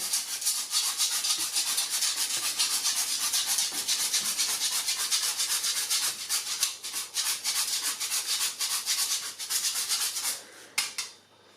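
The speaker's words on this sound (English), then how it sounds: "Then I've got 1 whole nutmeg. I'm going to put about half of that on the bottom, just with a grater." A whole nutmeg is rubbed against a kitchen grater in fast, rhythmic rasping strokes, close and fairly quiet, continuing steadily before slowing and stopping at the end.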